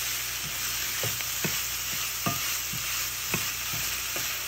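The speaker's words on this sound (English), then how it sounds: "we're just going to stir this around until the linguica is all cooked" Ground linguica sizzles steadily in a pan while a utensil stirs it, adding soft scrapes and taps at irregular intervals over the constant close-up frying hiss.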